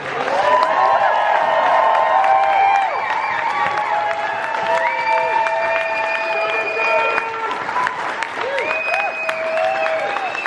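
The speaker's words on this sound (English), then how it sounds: "let's give a big round of applause" A live audience at a StopGap Ramp Up 2017 event applauds and cheers steadily, loud and close, with whoops and raised voices over continuous clapping throughout.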